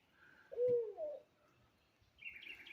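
A single low, hooting barred owl call rises and falls nearby, followed by a fainter, higher bird call in an otherwise quiet setting.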